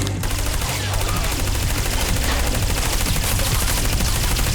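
Rapid, sustained gunfire from the side-scrolling video game Trials of the Blood Dragon, a dense, continuous stream of shots running loud throughout with no pauses.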